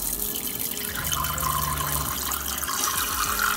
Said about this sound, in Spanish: Vamos a darle al agua fría.